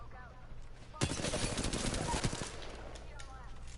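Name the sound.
gunfire in a video game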